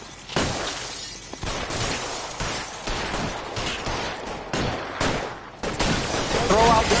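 Gunfire in the video game L.A. Noire rings out as loud, repeated shots and bursts, with shattering impacts and voices speaking amid the fire.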